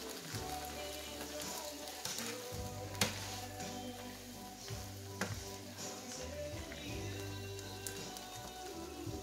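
A pot of pinto beans with diced tomatoes and green chili boils steadily, giving a dense, continuous bubbling and sizzling with faint clinks and knocks scattered through it.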